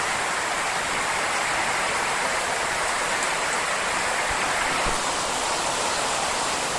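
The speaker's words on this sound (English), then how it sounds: "It is 12 o'clock at night, and we're finally getting a big downpour." A torrential nighttime downpour in Georgetown, Guyana, with dense, unbroken hiss of heavy rain that stays loud and steady throughout, a few faint thumps underneath.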